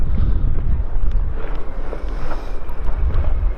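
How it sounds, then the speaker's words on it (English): Cold north wind on a sunny winter day in Turkey, a loud, steady, low buffeting rush against the microphone throughout, with no voices. "I've had a north wind blowing"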